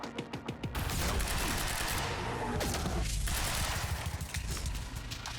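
Rapid automatic gunfire in the Quantum Break video game, a dense sustained fusillade of shots with a few distinct bursts at the start, loud and close, with no talking.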